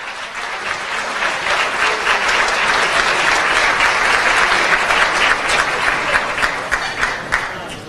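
Strong, sustained applause from a conference audience welcoming Dr. Edmundo Jarquín at CADE, loud dense clapping that swells and holds for several seconds before thinning slightly at the end.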